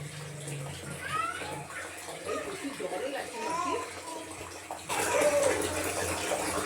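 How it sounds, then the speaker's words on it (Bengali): A baby girl splashes water while bathing in a tub, with soft continuous splashing and sloshing close by, someone talking over it, and a louder burst of water near the end. "আর স্নান নিজেই করছে, যেমন করে বাচ্চারা"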